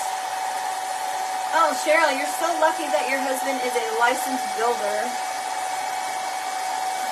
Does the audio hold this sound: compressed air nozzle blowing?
no